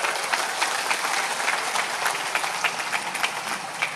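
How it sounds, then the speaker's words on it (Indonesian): Steady crowd applause from an audience at a religious lecture, a dense even patter of many hands clapping throughout, moderately loud and without speech. "Tepuk tangan untuk mereka."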